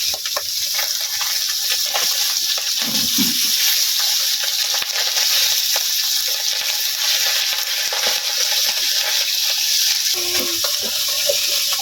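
Fish sizzles and spatters in hot oil, a steady bright hiss with occasional crackles and a few soft clinks from stirring.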